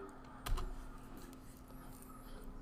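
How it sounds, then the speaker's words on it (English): Keys tapped on a computer keyboard while entering a search into a game's search bar, a quick burst of clicks followed by softer scattered taps over a steady low hum. "Go to the search bar and type in pull me over."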